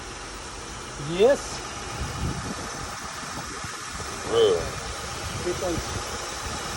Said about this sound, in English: This engine, this is a J30 right here.